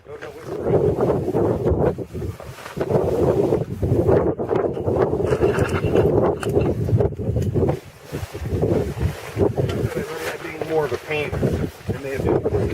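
Strong wind gusts buffet the microphone outdoors while an Arctic Oven 12x18 tent with vestibule is pitched, a continuous loud rumbling roar with brief lulls as people talk throughout.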